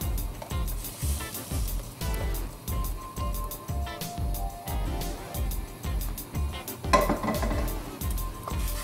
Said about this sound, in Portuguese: E vamos mexendo até voltar a levantar a fervura.